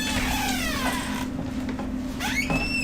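A sleeping cat makes angry, growling cries, drawn-out wavering calls that rise and fall over a steady background hum, with no one speaking.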